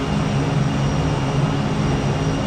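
Piston engines of a WWII P-38J fighter in the Prepar3D flight simulator give a loud, steady drone with a constant low hum throughout, no voices over it.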